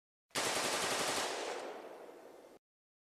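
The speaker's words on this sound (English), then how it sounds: "this is how a machine gun is supposed to fire" A machine gun fires one continuous sustained burst lasting about two seconds, loud and dense, with rapid shots blurring into a roar that fades slightly toward the end before stopping abruptly.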